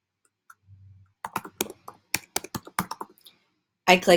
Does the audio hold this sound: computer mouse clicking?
yes